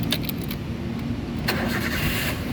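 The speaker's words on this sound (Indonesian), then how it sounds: "sekarang kita coba nyalakan mobil" A 2009 Toyota Avanza 1.3 G with a manual gearbox starts up, the engine catching and settling into a steady idle under broad, constant noise, with a faint jingle of keys near the start.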